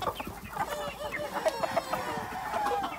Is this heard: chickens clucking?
yes